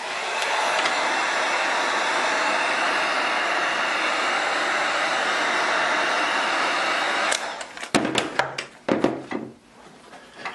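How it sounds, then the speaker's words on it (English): A heat gun blows a steady, loud rush of hot air onto a plastic wrap on an AK magazine. After about seven seconds the airflow stops and a series of sharp handling knocks and rustles follows. "we're going to hit it with a blast of heat from the heat gun"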